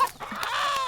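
A chicken gives a short, close, loud cluck as it is being caught, with a few quick squawky notes and no talking over it.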